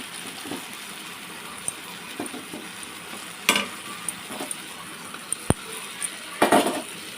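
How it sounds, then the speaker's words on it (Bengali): Fried prawns are stirred into a bottle gourd curry, giving a quiet simmering sizzle with scattered clinks and scrapes of a spoon against the pot, including a few sharper knocks near the end. "এবার দেখুন আমি চিংড়ি মাছটা দিয়ে দিলাম"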